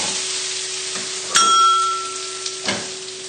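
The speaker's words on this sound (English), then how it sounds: "it's just a case of mixing the pasta into the pesto and the sausages" Pasta tossed into chilli pesto and crispy sausages in a hot pan: a steady close sizzle, one sharp metallic clink of a utensil against the pan, then softer scrapes and taps, with no talking.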